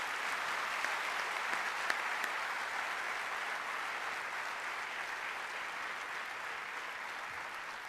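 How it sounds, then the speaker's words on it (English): A large audience at a BITS Pilani Goa convocation ceremony claps steadily, a dense, even wash of applause that holds for the full eight seconds at moderate volume without any voices. "I think you need to give them a massive round of applause for what they have done for you guys."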